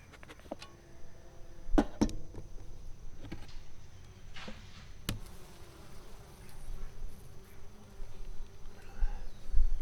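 Bees buzz on a beehive lid at a woodland outyard, a faint steady hum close by with scattered clicks and handling knocks.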